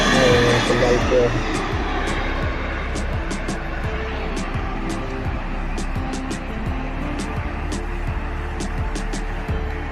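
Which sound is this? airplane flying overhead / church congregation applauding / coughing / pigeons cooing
airplane flying overhead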